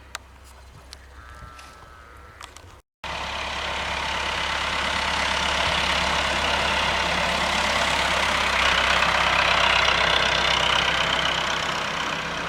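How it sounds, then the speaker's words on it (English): After a few faint bird calls, a tractor engine cuts in loud and close, a steady rumbling drone that swells slightly as it nears. "it sounds like Mike's coming back on the tractor"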